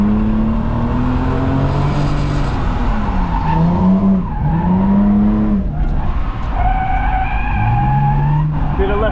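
A Ford Falcon climbs a hill, its tyres skidding and squealing in long wavering screeches over steady loud engine noise, with a person talking in the car.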